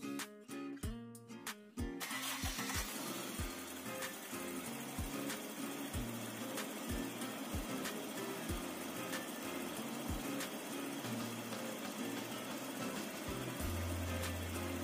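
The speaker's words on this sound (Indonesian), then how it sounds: "Hidupkan mesin dan tunggu sampai 10 menit. Ingat, tidak perlu digas-gas. Biarkan dia stasioner sampai 10 menit." A Toyota Kijang Kapsul LGX 1.8 EFI petrol engine idles steadily during an engine flush, a low even hum with a regular ticking pulse, heard close after a brief clatter at the start.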